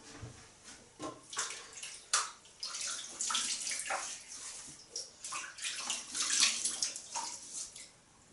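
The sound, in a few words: water splashing while wetting the face for washing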